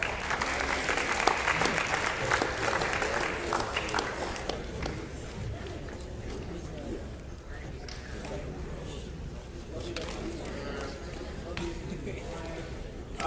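A school crowd claps for students at a high school winter sports awards assembly, loud applause at first that thins into scattered claps, footsteps and murmuring voices.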